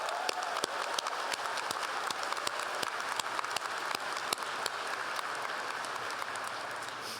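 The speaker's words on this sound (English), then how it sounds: "can we give another round of applause to our great student speakers?" Sustained applause from a large crowd at the American University School of Public Affairs spring 2023 commencement ceremony, steady dense clapping with a few sharper claps standing out, no talking.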